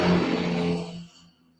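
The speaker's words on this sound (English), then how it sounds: "A large truck just went by on the road" A large truck passes by on a road and brakes loudly, a brief, heavy rush of engine and road noise that falls away sharply after about a second, leaving near quiet.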